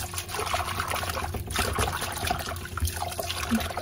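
Water runs and splashes over spinach leaves being washed by hand, a soft, steady trickle with light rustling and dribbling, close but quiet.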